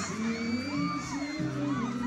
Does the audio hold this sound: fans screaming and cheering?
yes